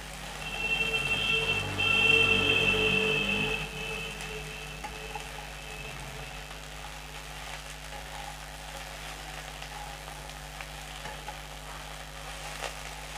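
Sliced okra fries and sizzles in a pan with a steady hiss while being stirred, a spatula scraping briefly near the start, close and continuous with no voices.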